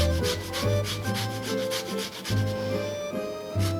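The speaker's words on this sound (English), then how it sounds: "You're going to want to just scrub a lemon and grate the zest of 1 lemon in this." A scrubbed lemon has its zest grated for spinach and ricotta gnudi, giving steady rhythmic scraping strokes that sound close and soft, with no talking.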